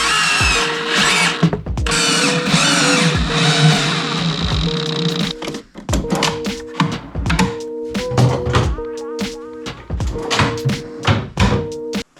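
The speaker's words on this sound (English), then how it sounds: "when this comes back in, it catches that bumper and pops into place, just like that" A drawer on a slide in a DIY teardrop camper galley cabinet closes, catches a bumper and pops into place, producing knocking thunks and clatter amid shop machinery hum and whirring tones.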